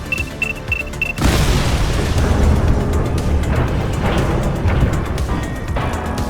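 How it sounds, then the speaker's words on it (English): A massive explosion in the video game The Precinct bursts in after a short electronic beeping, then rumbles on as a loud, sustained roar of debris and fire for several seconds. "We may not have the time to stop the explosion."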